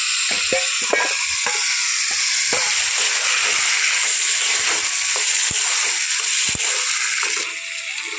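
Pointed gourd and tomato drop into hot oil with cumin, bursting into a loud, steady sizzle with crackling pops and occasional stirring scrapes throughout, easing slightly at the very end.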